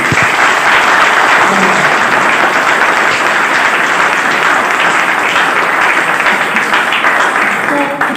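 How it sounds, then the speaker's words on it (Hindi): Loud, sustained applause from a large seminar audience fills the room, dense clapping that continues evenly for several seconds close to the listener. "एक बार उनके लिए जोरदार ताली।"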